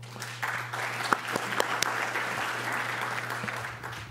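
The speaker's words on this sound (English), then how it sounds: "let's give them a round of applause as well" Applause from a conference audience, a steady, moderately loud patter of many hands lasting several seconds, with a low steady hum underneath.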